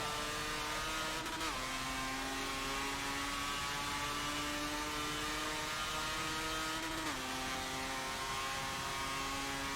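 A Mazda RX-7 race car engine drones steadily in Forza 7, holding a high rotary whine with two quick pitch drops as it shifts gears, smooth and constant throughout.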